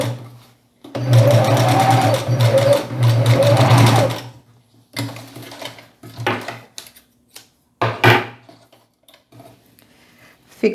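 A sewing machine stitches the crotch seam of a pair of shorts in a loud, close burst of about three seconds, followed by short stop-start spurts of stitching and quiet handling noises.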